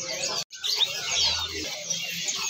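Kalimantan magpie robin (kacer) giving short chirping calls at a bird market stall, close and fairly clear, with a brief gap early on and background chatter faint beneath.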